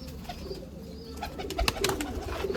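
Pigeons kept on a rooftop in Amritsar coo in low, throaty calls, with rustling and fluttering bursts that grow busier toward the end, close by.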